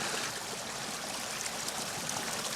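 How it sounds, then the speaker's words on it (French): A small stream flows and trickles steadily, a continuous bright burbling wash of water close by with no voices over it. "t'entends pas le ruisseau chanter?"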